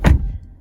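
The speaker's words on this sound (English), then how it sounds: "Shutting the door, you have a very solid door thunk." A 2017 Jaguar XE 35t R-Sport's door shuts with one solid, deep thunk, close and loud, then a short low decay fades into quiet.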